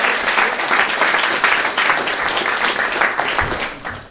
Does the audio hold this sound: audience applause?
yes